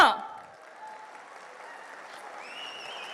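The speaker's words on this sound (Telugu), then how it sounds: "ఒక్కసారి ఆయన గట్టిగా చప్పట్లు కొడదామా?" An audience at a Megastar Chiranjeevi birthday celebration claps in a sustained, even wash of applause that swells briefly at the start and then holds steady at moderate volume.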